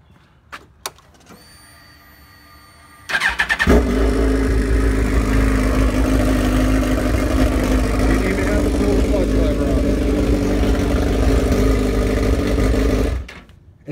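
After a couple of clicks, a motorcycle engine with its clutch switch bypassed cranks and catches, then settles into a steady, loud idle close by before cutting off near the end, with a voice talking over it.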